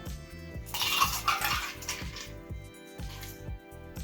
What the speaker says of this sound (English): We're just going to take our prepared glass and pour right in there.